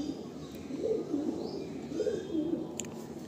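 Breeding pigeons cooing inside a loft, soft repeated low coos in rhythmic phrases, close by with faint background hum.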